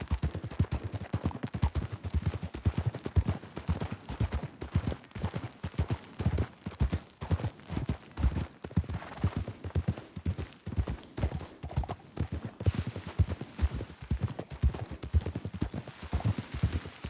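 Horses gallop in Red Dead Redemption 2 gameplay with rapid, continuous hoofbeats drumming steadily for the whole stretch. The pounding is close and fairly loud, with no talk heard over it.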